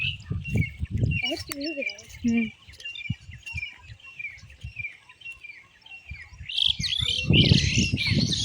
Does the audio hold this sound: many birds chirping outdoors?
yes